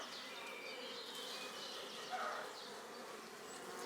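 Honeybees at a colony that is building up drone in a steady, faint buzz close by, with a slightly louder pass near the middle and no voices.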